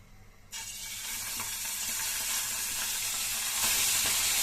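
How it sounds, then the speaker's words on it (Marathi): Two hundred grams of paneer hits a spoonful of hot oil for shallow frying, with a sudden sizzle that starts after a quiet moment and holds steady and close, with a few faint taps. "पनीर शेलो फ्राय करून घेऊया त्यासाठी एक चमचा तेल"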